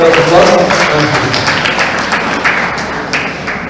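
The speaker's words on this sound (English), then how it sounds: "Please give a big round of applause" Audience applause at a medical college education day celebration, with scattered sharp claps over a dense crowd wash that gradually fades.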